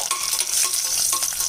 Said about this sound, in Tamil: இப்போ நம்ம சேர்த்த பட்டை, கிராம்பு, ஏலக்காய் எல்லாமே நல்லா பொரிஞ்சு வந்துருச்சுங்க